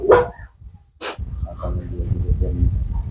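A dog barks at a house in the rain, one sharp bark near the start and another burst about a second later, followed by a low jumble of voices and background noise.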